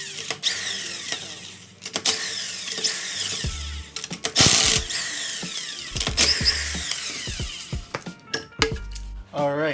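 Wheel coming off a 2008 Nissan Sentra during a brake job: sharp metallic clinks and clatters of lug nuts and tools, with short bursts from a power impact tool, close up and alone.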